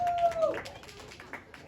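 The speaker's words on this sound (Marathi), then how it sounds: "जोरदार टाळ्या झाल्या पाहिजे आमच्या निर्मात्यांसाठी" Sparse, fairly quiet clapping from a small group at a cake-cutting celebration for the producers of a Marathi TV serial, scattered hand claps with a faint tone at the start.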